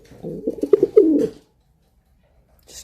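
An agitated pet pigeon gives a close, low, throaty cooing burst of several pulsing notes lasting about a second, followed by near silence.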